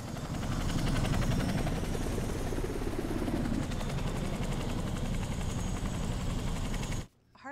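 A helicopter lifts off in an action-film scene, its rotor chop and engine roar loud and close, a dense pulsing throb that stays strong for about seven seconds before cutting away sharply.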